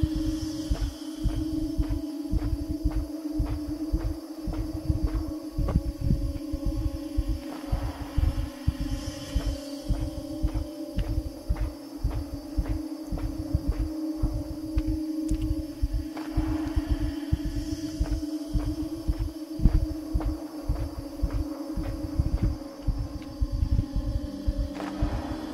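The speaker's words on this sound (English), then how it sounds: "The heartbeat doesn't help in the background, eh?" A steady, throbbing heartbeat pulses in the background of the video game Inside, dull low thumps repeating at an even rhythm under a humming ambient drone, with no talking.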